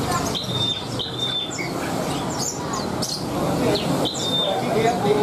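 Songbirds chirp and trill repeatedly in a bird shop, bright tweets scattered over a steady background of room noise, while a person talks underneath.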